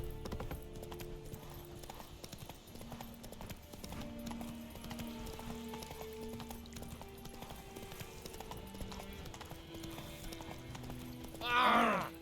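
In The Witcher video game, horse hooves trot in a steady, continuous clip-clop beneath game music, ending with a brief sharper burst.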